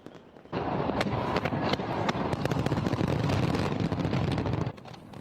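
A loud New Year fireworks display with rapid crackling bursts and booms layered into a continuous roar, fading toward the end.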